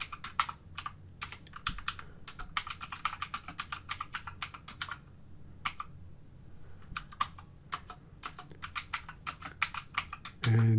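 Fingers type steadily on a computer keyboard, producing close, crisp key clicks in quick bursts separated by short pauses, with no talking.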